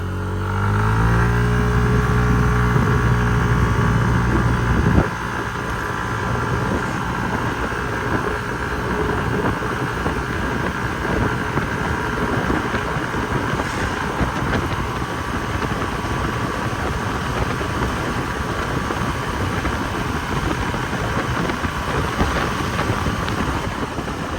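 A Yamaha Majesty 155 S scooter imported from Japan, ridden at road speed, gives a steady engine drone with wind rush. It is louder for the first few seconds, then holds an even, continuous pitch with no talking.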